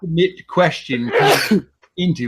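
A single sharp sneeze bursts out mid-conversation at a geek quiz match, sandwiched between stretches of people talking.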